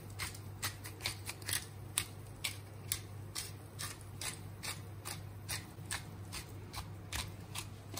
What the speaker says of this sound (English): Now you can crush this paper on top.